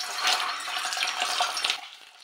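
Eggs frying in hot oil in a home kitchen pan for an egg and drumstick curry, giving a steady bright sizzle that swells and wavers for about two seconds before easing off, close up with no talking.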